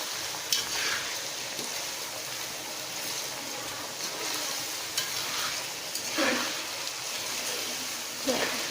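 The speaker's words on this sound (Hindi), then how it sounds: "अब हम इसकी अच्छी सी थोड़ी सी 5 मिनट भी नहीं बल्कि 1 मिनट तक इसको ज़रा थोड़ा सा मिक्स कर लेते हैं तमाम चीज़ों को" Ingredients stirred and mixed in a hot pan while frying, a steady sizzle with occasional scraping strokes of a spoon, close up, continuing throughout.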